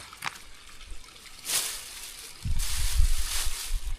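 Water poured while cooking, a soft trickle early on that swells into a louder, steady splashing stream over the last second and a half, fairly close and with no talk over it.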